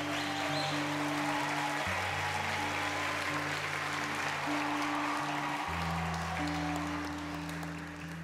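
An audience in a theater applauds at a live Christian concert, sustained clapping from a large crowd heard continuously at moderate distance with a low musical tone underneath.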